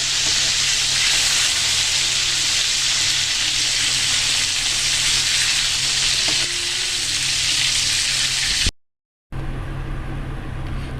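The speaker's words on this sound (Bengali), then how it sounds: "দেখুন আমার মাছগুলো ভাজা হয়ে গেছে" Loud, continuous hiss of bata fish frying in oil close up, briefly cutting out near the end before the sizzle resumes.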